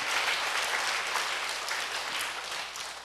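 A church congregation at a Sunday worship service applauds together, a dense, steady wash of many hands clapping at once that holds evenly for about three seconds with no voices standing out.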